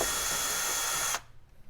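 Power driver whirring steadily for about a second as a 10mm screw is backed out of rear cargo trim on a Toyota FJ Cruiser, then cutting off abruptly, up close.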